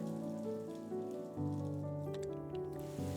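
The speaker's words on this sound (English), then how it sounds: "Rain continued to slam against my window" Steady rain beats against a window glass, a dense continuous patter with low droning tones running underneath throughout.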